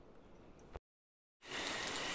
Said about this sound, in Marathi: बाहेर पडतोय मस्त पाऊस